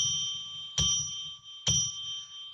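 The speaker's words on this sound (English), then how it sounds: "let's ring that bell 3 times to declare sacred space" A ritual bell rung to open a live psychic radio show gives bright, clear metallic strikes, each followed by a long sustained ringing tone. The rings are spaced about a second apart, with no talking over them.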